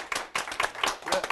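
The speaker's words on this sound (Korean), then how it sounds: "박수 부탁드리겠습니다" An audience claps for a guest being introduced, a short burst of brisk, close applause from a small crowd.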